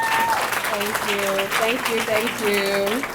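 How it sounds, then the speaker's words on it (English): Audience applause at a Women's History Month celebration rises behind a voice speaking over it, with steady clapping filling the room throughout. "Give her a round of applause"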